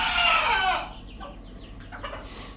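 A hen in a backyard coop gives a loud burst of clucking and squawking for under a second, then fades to a few faint, scattered clucks over quiet background.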